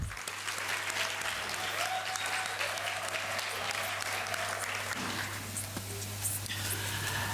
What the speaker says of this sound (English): Can you give Kagiso Trust a round of applause?